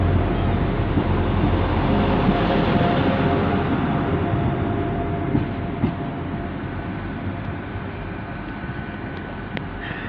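Class 175 diesel train engines rumble and drone loudly at a station, with a steady heavy roar that eases slightly as the train moves off, plus faint rail clatter.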